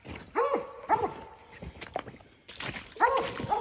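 A red coonhound bays at a treed raccoon during a coon hunt at night, with repeated loud, drawn-out bawling howls in short bursts and rustling footsteps between them.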